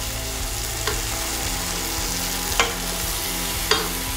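Potato pieces frying in hot mustard oil give a steady, close crackling sizzle, broken by a few sharp spattering pops and stirring clatters.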